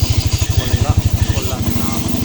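A sniper-version motorcycle, its clutch damper just replaced, runs up close with a loud, fast, even pulsing putter.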